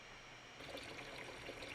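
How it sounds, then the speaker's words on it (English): Cold water runs steadily from a kitchen tap onto freshly made beef balls, a soft continuous trickle that swells slightly partway through, close by and with no talking. "cold running water"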